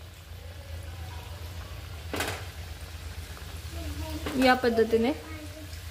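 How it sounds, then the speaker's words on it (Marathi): Wheat flour modaks frying in hot oil over a low gas flame, a soft continuous sizzle with a brief splash as one drops in, while someone talks over it. "तर चला तर मोदक तळून घेऊया"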